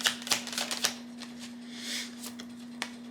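Tarot cards being shuffled and drawn by hand: a quick run of papery riffles and flicks, then softer sliding and a final snap, close and fairly quiet over a steady low hum.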